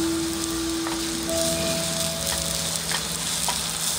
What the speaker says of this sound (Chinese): 炒锅放少量的油，先把葱炒香一下